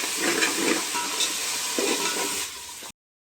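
Coriander-mint paste is stirred into chicken curry frying in a pan, giving a steady close sizzle with soft scraping strokes throughout, no voices, ending abruptly.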